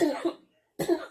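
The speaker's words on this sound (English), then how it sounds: "y'all excuse me for coughing" A person coughs in two loud, close bursts separated by a brief silence, the second cough fuller than the first, with no speech.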